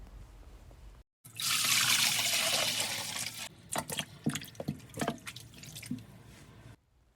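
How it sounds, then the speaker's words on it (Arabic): Cold water poured into a deep bowl over chicken drumsticks, a loud, steady splashing stream for about two seconds, then scattered drips and trickles that fade out, with no talk. "أنا بجاد غميق نزلت مي باردة وكمان نزلت الدبابيس"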